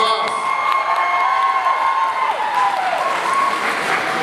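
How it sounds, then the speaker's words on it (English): An audience at a teen beauty pageant applauds and cheers, continuous clapping with some shouts and whoops, while tonal sounds and a voice run faintly through it. "Everyone, give her a round of applause."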